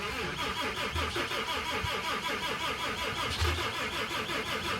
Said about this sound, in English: I had to boost the truck and crank the hell out of it to get it started